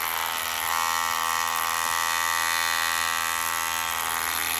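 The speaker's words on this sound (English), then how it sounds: "We take that grinder and just kind of dress that bottom off." An angle grinder dresses the bottom of foam and concrete blocks on an ICF block wall, giving a steady, loud, high whine that holds unbroken for nearly five seconds.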